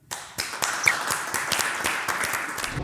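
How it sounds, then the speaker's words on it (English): An audience applauds as a startup founder takes the stage at a live feedback event, with sharp, distinct claps rising quickly into a steady, moderately loud round of clapping. "Round of applause"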